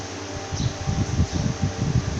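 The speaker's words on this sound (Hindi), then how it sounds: "हमारा रूम कूलर ऑन हो गया है।" A DC room air cooler running on an old PC power supply whirs steadily, its fan giving a constant airy hum with a slight pulsing flutter in the low end, close and moderately loud.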